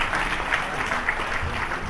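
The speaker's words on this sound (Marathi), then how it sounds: "प्लीज जोरदार टाळ्या पल्याळ टीम साठी आपण वाजवूया।" Audience at a film event applauding the Palyal film team on stage, a continuous dense patter of clapping from a crowd for about two seconds, moderately loud.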